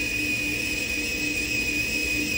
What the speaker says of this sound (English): it's like whistling water through.